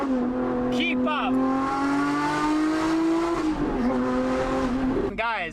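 Lotus Emira V6 with a Valvetronic Designs titanium exhaust, a steady droning engine note that climbs slowly, dips, then sweeps up sharply at the end, loud and close with voices faintly mixed in.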